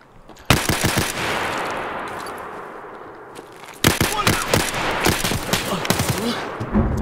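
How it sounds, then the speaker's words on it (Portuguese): Rapid bursts of sniper gunfire in the video game Escape from Tarkov, sharp cracks in quick clusters with a long reverberant tail between volleys, loud and close at the start and again in the second half. "O cara de sniper dando 50 tiros do outro lado do mapa"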